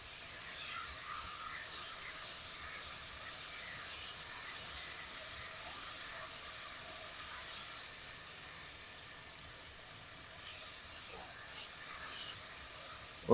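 Garlic sizzling in a hot pan, a steady bright hiss running throughout with small crackles as it is kept moving, fairly quiet and even with a slight swell near the end.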